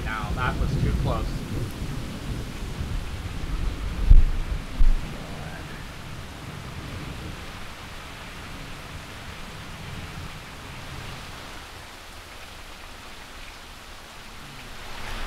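A thunderstorm at sea: a heavy roar of wind and pouring rain, with deep rumbling thunder and a couple of sharp cracks early on, steady and loud throughout.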